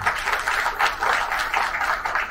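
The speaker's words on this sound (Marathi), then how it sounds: "आज इथे राहून तुम्ही माझ्यासाठी टाळ्या वाजवत आहात" Audience clapping at an awards night ceremony, a moderately loud, uneven patter of many hands with slight swells, heard on its own without talk.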